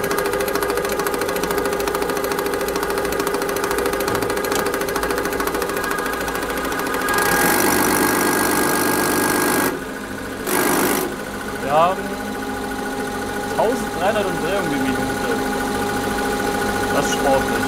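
Injection pump from an MB Trac running on a test bench: a steady mechanical drone with a fine rapid ticking, rising into a louder surge partway through, with people talking in the background.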